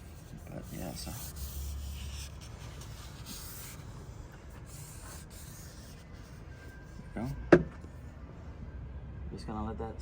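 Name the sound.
rubbing finish coat onto wooden handle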